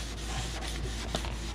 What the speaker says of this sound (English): here you can see the wife working on her running board by water sanding it